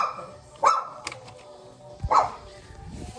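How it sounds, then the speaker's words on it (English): A dog barks two sharp, loud barks about one and a half seconds apart, close by indoors, with quieter background noise between them. "Dog continuously barking."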